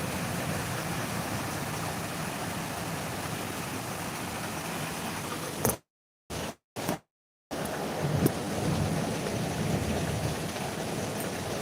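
Heavy rain roars steadily with a gusty, rushing wash of strong wind during a storm in Ayodhya, India; the sound cuts out briefly midway before the downpour resumes.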